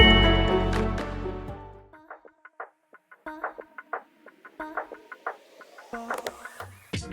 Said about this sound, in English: The chickens are free-roaming and are descendants of the flocks that were brought to Ybor City by Cuban immigrants